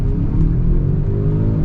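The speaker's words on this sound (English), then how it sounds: "now we're gonna get an acceleration" Steady low engine rumble from a 2023 Genesis G70 Sport Prestige 2.0T accelerating, heard from inside the car as a continuous, loud drone rising gradually in pitch.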